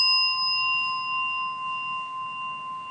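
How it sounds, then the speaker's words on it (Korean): A bell rings with a clear, sustained metallic tone that hangs and slowly fades across the whole stretch, alone over a faint low background hum. "내가 종소리를 듣고 있어요."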